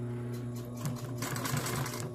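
A sewing machine runs continuously close by, stitching along a fabric edge with a steady motor hum and a rapid needle clatter that grows busier partway through.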